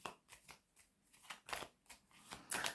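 Tarot cards handled and laid down on a table: a string of soft, quiet shuffling slaps and flicks in uneven bursts, with a few brighter card snaps toward the end, no voices.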